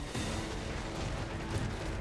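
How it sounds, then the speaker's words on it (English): Dense barrage of cannon fire in a fantasy video game battle, booming shots overlapping continuously and loudly for a couple of seconds with no talk. "A lot of the cannon shots are hitting, but a lot of them are also missing as well."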